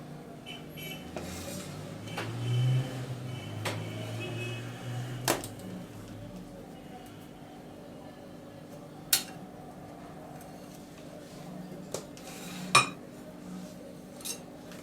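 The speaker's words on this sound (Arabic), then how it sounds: "هناخد بقى المثلثات بتاعتنا نحطها في الطباق" Triangular cheesecake slices set down onto plates in a home kitchen, a few light clinks of cutlery and dishware scattered through a quiet room with faint background hum.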